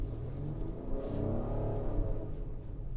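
A 2022 Acura MDX with SH-AWD pulls away uphill on a snowy road, its engine rising in a muffled, rumbling surge heard from inside the cabin, steady and fairly quiet with no talking.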